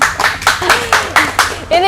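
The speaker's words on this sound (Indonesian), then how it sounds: "Tepuk tangan dong." Audience clapping at a traditional café, a steady run of about eight bright hand claps at an even pace, close and loud, with brief singing or voices mixed in.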